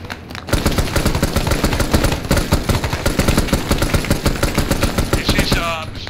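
Sustained machine gun fire in a video game, dense rapid bursts running nearly nonstop for several seconds, loud and close, with a voice briefly talking over the shooting near the end.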